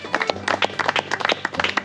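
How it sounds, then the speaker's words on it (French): A small crowd at a lakeside predator fishing contest applauds the big fish winner, brisk irregular clapping close by with a low background hum. "on peut l'applaudir bien fort"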